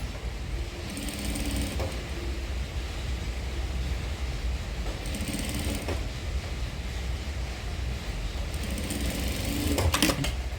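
A sewing machine stitches the boat-neck edge of a blouse, a continuous close mechanical whir with faint creaks and soft clicks running steadily throughout.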